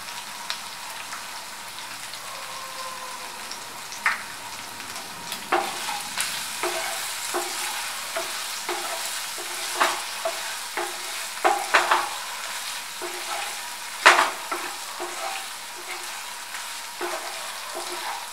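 Pepper chicken fry sizzles in a pan while a spatula stirs it, scraping and tapping in irregular bursts over a soft continuous crackle.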